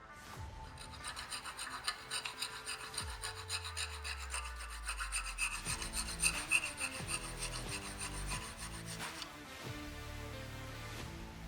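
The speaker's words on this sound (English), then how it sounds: "remove the excess with a broaching tool" Repeated scraping and rasping strokes of a broaching tool removing excess wood from a chef's knife handle, close and steady, with rhythmic rubbing passes and a low droning tone partway through.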